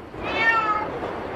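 A Van cat, the long-haired white Turkish breed, gives one drawn-out, close meow that rises and falls over about a second, loud and alone.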